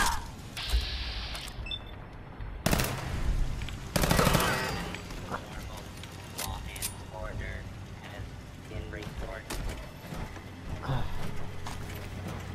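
Scattered gunfire in the video game Fallout 4, with sharp bursts of shots spread across a busy scene, some loud and some farther off, mixed with game effects and a person talking.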